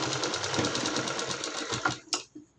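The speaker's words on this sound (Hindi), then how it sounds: "पहले हम शोल्डर पे सिलाई लगा लेंगे" A sewing machine stitches a shoulder seam on a garment, running in a steady fast rhythmic whir that stops abruptly near the end, followed by a brief clack.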